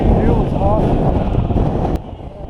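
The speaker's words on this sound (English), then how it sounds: "Super windy up here." Strong wind of roughly 40 to 50 mph buffets the microphone on the summit of Mount Adams in New Hampshire, a loud, steady roar with gusty rumble that drops off sharply near the end.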